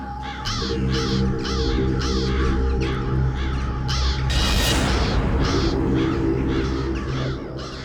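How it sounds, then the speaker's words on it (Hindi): Several crows caw repeatedly in a rhythmic series of harsh calls, fairly close, over a steady low hum and background noise. "इतने सारे कौवे"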